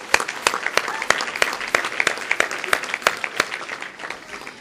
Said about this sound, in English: round of applause for those few people